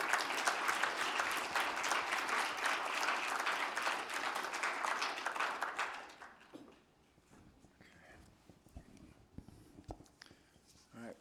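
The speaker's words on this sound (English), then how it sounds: "Let's give him a warm round of applause." A room of people at a primary care policy event gives a warm round of applause, dense and steady for about six seconds before it fades out, leaving quiet room noise and a few scattered sounds.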